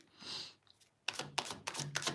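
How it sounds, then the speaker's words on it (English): Cards from a Divine Love Oracle deck being shuffled by hand, a soft papery rustle followed by several crisp riffling bursts in quick succession, close up with no talking. "let's shuffle 2 cards from my Divine Love Oracle deck here"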